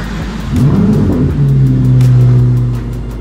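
A Chevrolet Corvette ZR1 engine revs up hard at Watkins Glen, its pitch climbing steadily as it accelerates, loud and close, with no voices.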